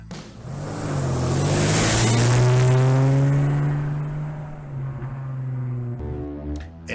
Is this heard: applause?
no